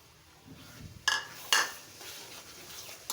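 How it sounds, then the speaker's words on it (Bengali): Raw mango pickle with chili powder and five-spice is stirred in a pan, a faint low sizzle under two sharp clanks of a spoon against metal, quiet and close with no speech. "নেড়ে চেড়ে দেব। দেখো আচারের কালার চলে আসছে। আরও ভেজে নেব"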